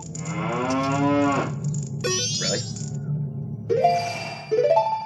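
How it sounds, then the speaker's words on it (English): A cow moos in a video game set in an underground well beneath an undead city, a long, loud low moo followed by shorter lowing calls and bright chiming tones. "Why the crap is there a cow in the middle of an undead city in a well underground with all these undead?"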